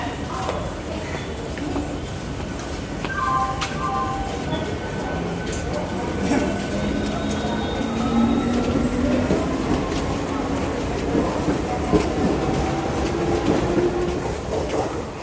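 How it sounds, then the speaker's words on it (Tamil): A train rumbles past a station in Chennai, India, with rhythmic clattering and a rising whine, loud and close, with a brief horn-like tone early on and faint voices in the background. "இந்த ட்ரெயின் போனால் தான் நம்ம ட்ரெயின் வரும்."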